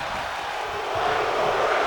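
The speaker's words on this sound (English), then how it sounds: "But now the crowd is into it as Dwayne Fox kicks out of the King's Gambit." Wrestling crowd at an independent show cheering as a wrestler kicks out of a pin, a broad steady roar that swells slightly louder partway through.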